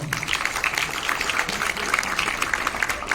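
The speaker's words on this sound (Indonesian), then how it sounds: "Kita berikan aplaus kepada Bu Welani dong." Audience applause at a career talk on a university campus in Jakarta, a steady dense wash of clapping that holds for several seconds at moderate loudness.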